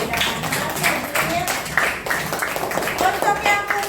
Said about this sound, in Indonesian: Kasih tepuk tangan buat Adit sudah bisa membedakan.